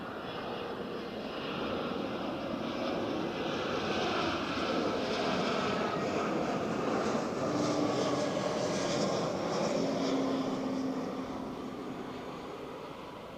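A plane flying near Barcelona El Prat airport sends a broad jet roar that swells gradually, holds, then fades over several seconds, heard from a distance with no talk.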